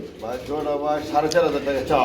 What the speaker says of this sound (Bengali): ব্ল্যাক চেক কালারের মধ্যে রিংয়ের বিউটি কবুতর